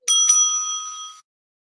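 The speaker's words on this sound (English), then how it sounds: "The timekeeper will then ring the bell once again" A small bell rung by a debate timekeeper, two quick strikes close together that leave a bright metallic ring fading over about a second, heard alone in a quiet room.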